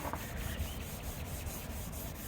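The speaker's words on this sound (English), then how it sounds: "he's sanding the spoiler at the moment" Someone sands the spoiler of a 2020 Honda Civic Sport CVT hatchback. The sanding makes quiet, rhythmic rubbing strokes, repeating a few times per second, close up and faint, with no talking.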